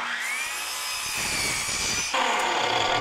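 Wood being sawn by hand-held power saw for a DIY wine rack, a steady rasping cut at close range that shifts pitch and grows louder partway through, with no talking.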